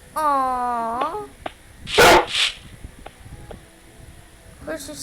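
A dog gives a short whining yelp followed by a sharp bark, close by, then quieter rustling and a faint yip near the end.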